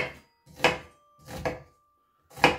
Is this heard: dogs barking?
no